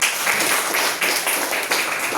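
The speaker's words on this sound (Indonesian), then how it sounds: "Tepuk tangan buat Win." Applause from a group, steady dense clapping that holds at an even level for about two seconds without talk.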